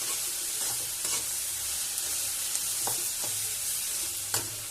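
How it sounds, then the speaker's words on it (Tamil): Ridge gourd chutney ingredients being sautéed in a pan, a steady sizzle broken by repeated stirring scrapes and taps at irregular intervals, close and alone. "இப்போ வந்து அதை நல்லா வதக்கி விட்டுறலாம்."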